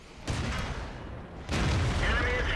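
T26E4 SuperPershing tank cannon firing HE shells in World of Tanks, two heavy booming blasts, one at the start and one about halfway through, each followed by a sustained rumbling tail. Game background noise fills the gaps between them.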